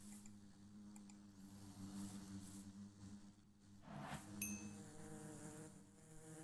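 Bees buzz around a bee nest in the Minecraft game, a faint and steady droning hum that wavers in loudness and has a few soft clicks mixed in.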